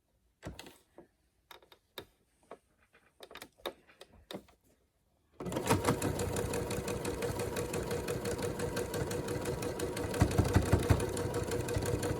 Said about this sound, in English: So I'm just going to do a quick straight stitch all along the edge.